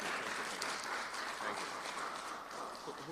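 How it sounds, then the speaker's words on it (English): An audience at a national health research conference applauds a speaker, a steady wash of many hands clapping together for a few seconds with some voices mixed in. "So please give him a round of applause."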